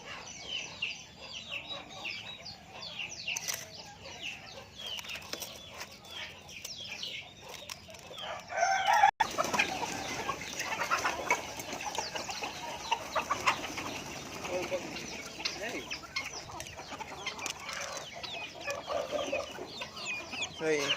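Chickens, both large hens and small chicks, crowding to eat old leftover rice mixed with pepper and cumin, clucking continuously with bursts of wing flapping and one sharp knock partway through, the flock close and busy.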